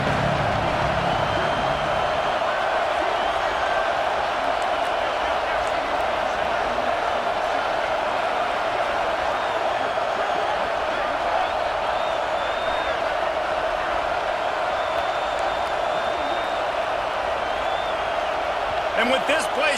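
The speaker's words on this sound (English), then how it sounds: "with this place rocking, the crowd forces a false start" Loud roaring crowd noise at a packed SMU at Oklahoma college football stadium, a sustained dense wall of cheering with whistles and shouts, continuous for the whole stretch.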